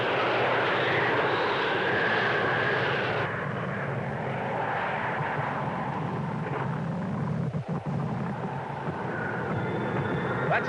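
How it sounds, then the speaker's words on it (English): A steady, loud engine drone fills the whole stretch, a broad rumbling roar like a propeller plane passing close overhead, with no talk. "Sounds like an airplane."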